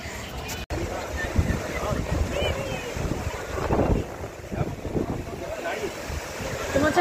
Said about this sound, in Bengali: হাওয়া দিচ্ছে খুব সুন্দর